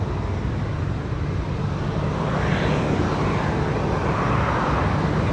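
A heavy Air India jet departs Sydney Airport at night, its engines making a broad, steady roar that swells slightly midway and holds at a moderate distance, with no talk over it.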